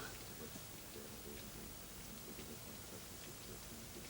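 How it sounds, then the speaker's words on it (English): Steady rain falls in a continuous soft hiss of drops, fairly quiet and even throughout with no clear pauses. "It's raining."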